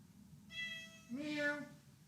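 A pet cat meows twice, first a thin, steady tone and then a louder, rising and falling call, close to the listener in a quiet room.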